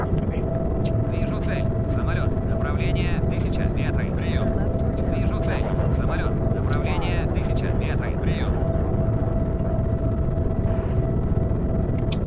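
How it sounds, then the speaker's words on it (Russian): Aircraft engine drone in Arma 3, a steady rumbling hum with a constant tone running through, with people talking over it on radio throughout. "Самолет."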